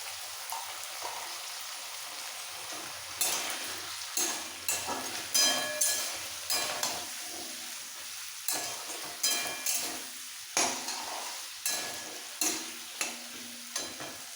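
Potato pieces and vegetable stems being stir-fried with cumin and coriander powder for a Bata fish curry, giving a steady sizzle broken by repeated sharp scraping stirs at a regular pace, close and fairly loud, with no talking.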